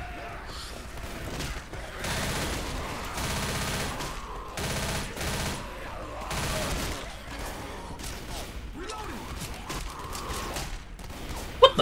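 Bursts of gunfire in a Left 4 Dead campaign on the Blood Woods map, clustered shots fired in several volleys at moderate volume, with little speech heard over them.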